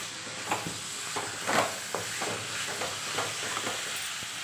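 Chicken washed with turmeric and salt sautéed in a pan for a Hyderabadi green chicken gravy, a close sizzle broken by repeated spatula scrapes at an uneven rhythm.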